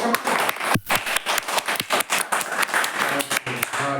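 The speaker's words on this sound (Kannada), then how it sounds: "ಒಂದು ಚಪ್ಪಾಳೆ ಜಡಿ" A group of children clap together after a concentration game, producing quick, uneven bursts of applause that fill about four seconds.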